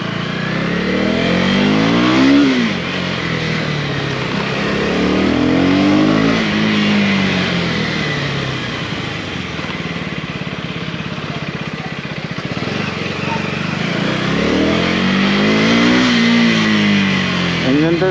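A 2024 KTM Duke 250 motorcycle engine while riding, close and loud, repeatedly revving up and easing off in several rising sweeps over steady road and wind noise.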